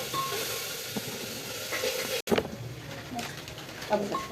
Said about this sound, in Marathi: तेलात कांदा चांगला परतून घ्यायचा.